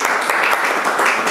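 Audience applause for a guest speaker at a Persian literature talk, a dense steady wash of many hands clapping close by, with a faint murmur of voices beneath.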